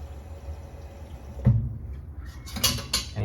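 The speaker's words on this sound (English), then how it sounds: "So you just add water" Water poured into a soy sauce and ginger mixture in a kitchen, a short splash and trickle with light clinks of a dish, quiet and close, no talking.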